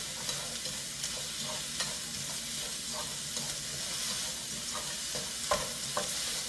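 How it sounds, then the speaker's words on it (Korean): Steady sizzling and frying of carrots and other vegetables in a hot pan, with soft scrapes and clicks as the food is stirred and tossed. "그 다음에 당근 넣어주고 볶다가"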